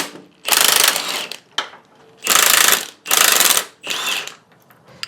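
Bolts come off a truck's upper control arm in four loud, close bursts of rapid mechanical rattling from a powered wrench, with short pauses between them.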